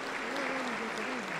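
Congregation applauding inside a Pentecostal church service in Huancayo, a steady wash of clapping with a voice or tone running over it.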